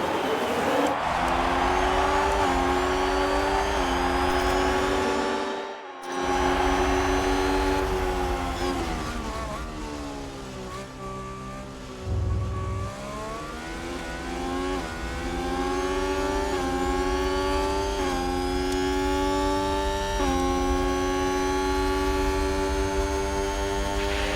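Race cars in F1 Manager 22 pulling away at the start of the Italian Grand Prix, a loud continuous chorus of high-revving engines rising and shifting pitch together, with a brief dropout partway through.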